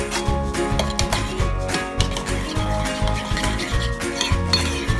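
Two teaspoons of mustard stirred into a dish in a bowl while cooking a Christmas dinner, with a utensil clinking and scraping against the bowl in a steady rhythm, close and fairly loud over faint background hum.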